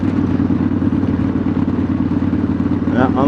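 A motorcycle engine drones steadily while riding, loud and close with wind rumble throughout; a rider's voice briefly sounds near the end.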